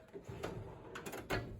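A drawer sliding on a tool chest, a faint, close rolling scrape with a few soft metallic clicks and a slightly firmer knock near the end, heard alone in a quiet room.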